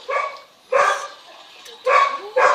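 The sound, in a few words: dog barking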